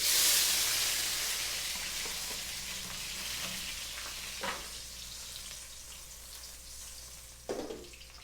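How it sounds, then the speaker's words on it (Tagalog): Onion, garlic and tomato tipped into hot oil for squid adobo set off a loud sizzle that slowly fades to a steady, softer frying hiss, with two brief clanks of a utensil. "mainit na ang mantika, ilagay natin ang sibuyas, bawang, kamatis"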